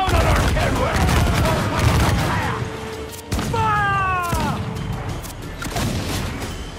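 Heavy ship cannons in the Assassin's Creed Black Flag video game boom in a loud naval battle, with a dense thudding barrage and a sharp crack amid rumbling background noise and shouting voices.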